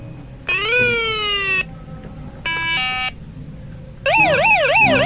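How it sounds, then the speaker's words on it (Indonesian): Toy police car siren plays electronic tones in three bursts: a long falling sweep, a short steady chord, then a rapid warbling wail, loud and close against quiet background. "Wow, ada sirene polisi juga teman-teman."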